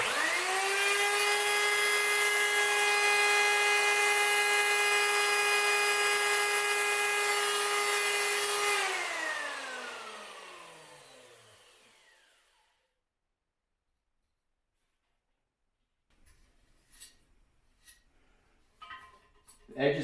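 A power tool cuts into the PVC of a high-tank toilet tank with a loud, steady high-pitched whine for about nine seconds. It then winds down to silence, followed by a few scattered close handling clicks.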